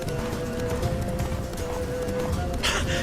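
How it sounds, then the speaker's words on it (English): Horse hooves clip-clop at a steady running pace in The Witcher 3, under a continuous bed of game ambience and music, moderately loud throughout. "Run, Roach"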